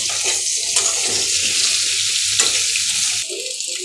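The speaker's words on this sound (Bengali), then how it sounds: "এবার ভালো মতো এটাকে ভেজে নিব" Steady hissing sizzle of plantain frying in a pan, continuous and close, with a couple of brief clinks before it quiets slightly near the end.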